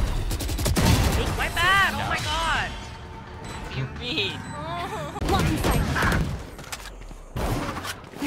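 Rapid bursts of gunfire from a VALORANT tactical shooter match, loud and near, broken up by effects and game-voice callouts, with players talking over the action throughout.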